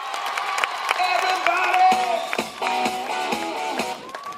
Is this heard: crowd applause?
yes